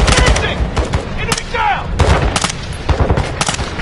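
Rapid bursts of automatic gunfire from the video game Call of Duty: Modern Warfare II, loud and close, with overlapping shots and short pauses between volleys.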